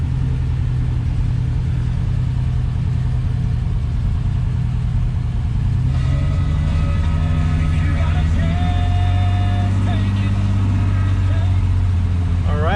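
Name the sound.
1973 Triumph TR6 engine running after a choked cold start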